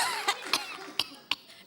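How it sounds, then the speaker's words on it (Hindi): A person coughs four times in short, dry bursts, fairly faint and a little distant, with a soft steady hiss behind the coughs. "इन्हें खांसी आ गई,"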